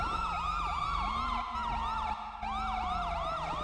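Emergency vehicle sirens wailing loudly and continuously in a rising-falling cycle, close by on a road during a police stop, with traffic rumble underneath and no talk.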